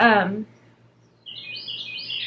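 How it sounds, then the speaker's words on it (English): Birds chirp and tweet loudly outdoors in a brief, high, busy burst that follows a moment of someone talking. "So, it's really loud out here. The birds are going nuts."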